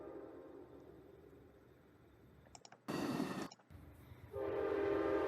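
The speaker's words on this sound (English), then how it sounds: "There it is! Another southbound Amtrak." Southbound Amtrak train passing close with a low rumble, then a sharp loud burst of horn and a second steady horn blast at the end.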